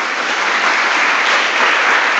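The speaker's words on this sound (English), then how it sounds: "clap na tayo" Steady, dense applause from an audience at an engineering talk, loud and continuous with no gaps and no voices over it.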